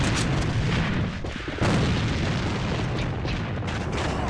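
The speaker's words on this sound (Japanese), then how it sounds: "爆発。" A heavy explosion in the online shooter AVA during a Fox Hunting match: a loud, sustained booming roar fills the whole clip, briefly dipping in the middle before surging again, with no talk over it.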